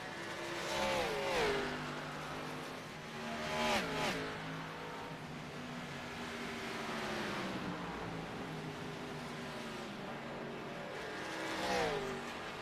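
Race cars in a simulated Xfinity Series race at Nashville roar past in lines, engines rising and falling in pitch as each pack sweeps by, with several louder passes over a continuous motor drone.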